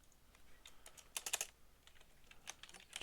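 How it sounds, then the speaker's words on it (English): Fingers type on a computer keyboard in quiet, uneven bursts of soft clicks, with a quick flurry of close, sharper keystrokes in the middle and no voices. "I'm going to type that into my notes."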